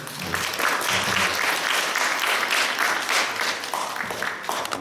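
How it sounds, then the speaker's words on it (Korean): A church congregation at a Sunday worship service claps in warm welcome for the pastor, dense, continuous applause from many hands close by, holding steady throughout. "박수로 좀 환영해 주실까요?"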